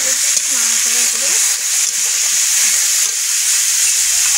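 Parshe fish frying in a pan with salt and turmeric while being stirred, a steady close hiss and sizzle running throughout with faint scraping of the stirring, and a brief voice heard early on.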